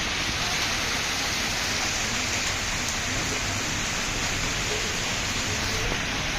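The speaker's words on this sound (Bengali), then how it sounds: "এই গাড়ির সামনে বৃষ্টি দেখুন, বৃষ্টি কি সুন্দর।" Rain falls at night on a street full of parked cars, a dense, even hiss of drops on surfaces that carries on unbroken with no talk.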